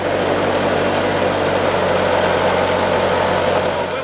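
A tractor engine idles steadily nearby, a loud, continuous low rumble that holds even throughout, with no voices.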